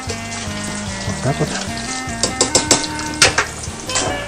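Battered fish sizzling and crackling in oil at 150-160°C with bursts of popping and spattering, close by; someone speaks briefly in Russian over it.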